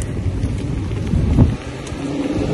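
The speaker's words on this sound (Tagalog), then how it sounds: "Dahil lumalakas yung ulan." A dense, steady roar of heavy rain in Ontario, Canada, loud and continuous, with a slight swell midway.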